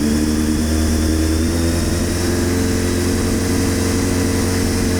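Engine idling unevenly just after its carburetors were cleaned of green crust, a steady close drone with a wavering, hunting beat, running alone without speech.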